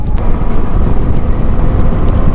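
KTM 250 Adventure motorcycle engine running steadily while riding, a continuous low rumble with wind noise, loud and close throughout.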